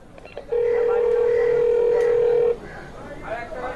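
A steady telephone dial tone holds for about two seconds in a Hindi radio drama, set against a quiet, hissy studio background with faint rustling before and after.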